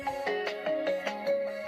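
A mobile phone ringtone sounds close and clear, a repeating melodic pattern of short tonal notes that keeps going without pause.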